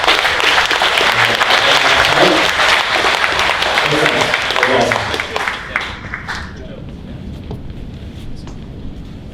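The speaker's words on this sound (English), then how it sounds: "I want to just get a big round of applause for our panelists." A large audience at the TIPIN Summit applauds panelists, loud dense clapping that fills the first several seconds and then tapers off into sparse scattered claps and room noise.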